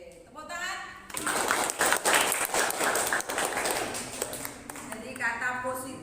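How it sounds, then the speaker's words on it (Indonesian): Applause from a group of participants at an Indonesian teacher training session swells for several seconds, a dense clatter of hands, with a voice talking before and after it. "Oke, tepuk tangan."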